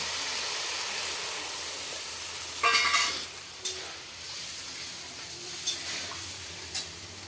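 Masala frying in oil with salt and a splash of water added, heard as a steady close sizzle with a sharp hissing burst partway through, then several stirring clinks over the continuing fry.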